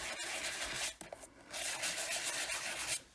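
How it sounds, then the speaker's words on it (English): Stampin' Up white-core designer paper is sanded by hand, giving close, steady rubbing and scratching strokes with brief pauses between passes. "So when you sand like that, the white core starts peeking out."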